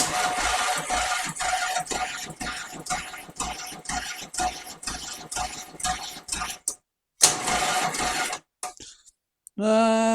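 A Triumph Trident T160 engine with its plugs out cranks on the starter during a compression test, a rapid and even mechanical churning up close that stops briefly, restarts, then cuts out.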